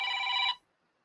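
A phone rings with a bright electronic tone, one steady burst about half a second long, then cuts off into near silence; close and clear, with no talking.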